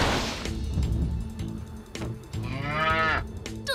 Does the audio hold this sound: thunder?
no